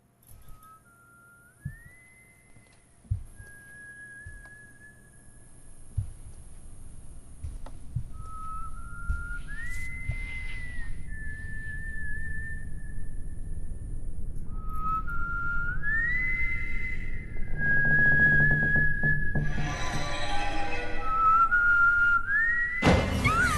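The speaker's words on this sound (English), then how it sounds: "Oh, the whistling." Melodic whistling in repeated short phrases in the video game Kingdom Come: Deliverance, rising then holding a note, over a low rumbling background that grows louder, with a few thuds early on.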